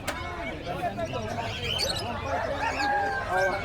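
African lovebirds at a busy pet market chatter and chirp in a dense, overlapping chorus, with fowl clucking mixed in and voices talking nearby.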